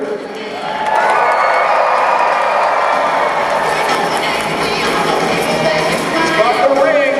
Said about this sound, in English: Raise your voices if you cheer for the American.